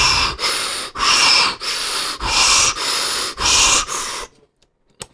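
A voice imitates a fighter's heavy, labored breathing with about seven loud, rasping inhale-exhale cycles in a steady rhythm, close to the microphone, before it stops.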